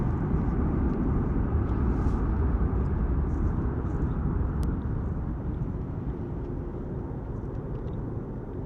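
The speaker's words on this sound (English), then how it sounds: "full noise departure there from the British Airways 777" A British Airways Boeing 777 departs Gatwick at full power, a loud, continuous roaring rumble with a broad hiss that holds steady and fades only slightly, with no speech.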